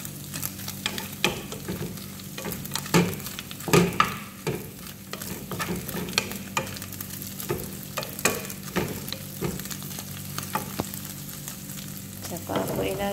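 Garlic frying with chili powder and ground pepper in a pan for garlic fried rice, a continuous sizzle under repeated rhythmic scraping and clinking of a spatula being stirred, close and steady.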